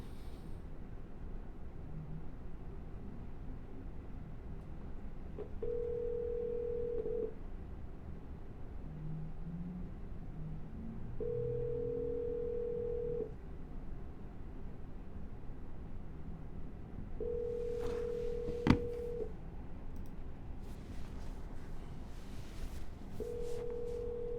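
Telephone ringback tones sound at intervals on a call to a real estate seller, with short dialing beeps in between and a sharp click near the end, all fairly quiet and without talk.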